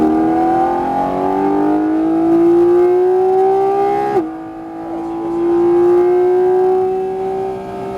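A Porsche 718 GT4 RS accelerates hard on a race track at Fontenay-le-Comte, its engine climbing in pitch through one gear, a quick shift, then rising again, loud and close from inside the car.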